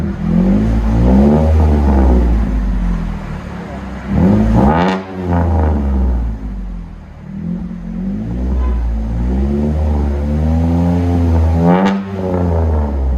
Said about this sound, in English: Chevy Colorado V6. This is what it sounds like.